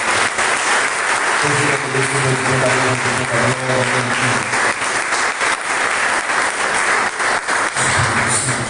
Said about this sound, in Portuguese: Aplauda Jesus se você assim quiser